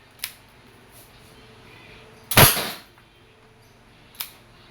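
A Wingun 708 airsoft revolver fires steel BBs: one sharp, loud crack in the middle, framed by two lighter mechanical clicks before and after, with quiet room background and no speech.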